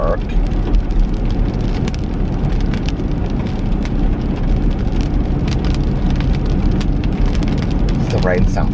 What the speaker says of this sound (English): Does the rain sound pretty?